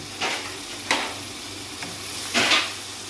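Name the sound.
whole spices and spice powders roasting in a pan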